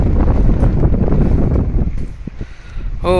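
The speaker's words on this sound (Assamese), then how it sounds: "বতাহতে চকী টকী চব পৰি গৈছে, কি সাংঘাতিক বতাহ" Strong wind buffets the microphone in loud, low rumbling gusts at Hervey Bay, Australia, easing briefly near the end before surging again.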